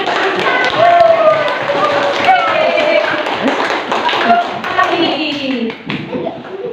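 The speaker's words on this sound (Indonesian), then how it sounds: "Bagus, beri tepuk tangan." Fourth-grade primary school pupils clap in a classroom, a busy patter of hand claps mixed with children's chatter and voices throughout the few seconds.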